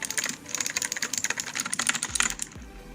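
Rapid clicking of the keys on an Ozone Alliance gaming keyboard, with dense, continuous, close-up clacks and taps in quick irregular bursts, followed by a couple of heavier thumps near the end.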